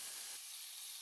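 Small boneless chicken pieces hit a hot pan with curry leaf paste, setting off a loud, close hissing sizzle that rises with a burst of low crackle and then settles into a steady hiss.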